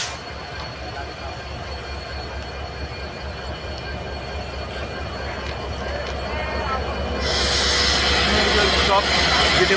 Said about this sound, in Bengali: গাইস ট্রেন চলে আসছে অলরেডি।